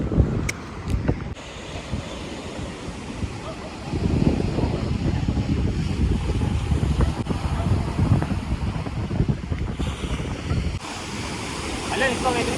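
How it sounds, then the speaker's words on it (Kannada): Surf breaks and washes at Mundalli beach in Bhatkal under gusty wind buffeting the microphone, a steady roar of waves rising and falling throughout. "ಇದು ಮುಂಡಳ್ಳಿ ಬೀಚ್"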